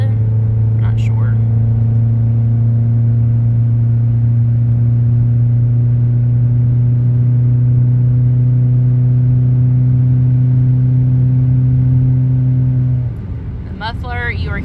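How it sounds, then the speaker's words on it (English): Steady idle of a 1999 Mazda Protege engine exhaling through a Vibrant aftermarket muffler, a constant low droning hum held for about thirteen seconds before it cuts off. "Muffler you are hearing is by Vibrant."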